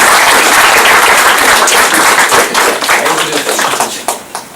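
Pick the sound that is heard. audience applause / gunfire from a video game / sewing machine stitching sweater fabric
audience applause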